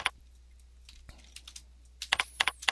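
Rapid keystrokes on a computer keyboard, sparse at first and then a quick burst of close, crisp clicks, alone with no talk.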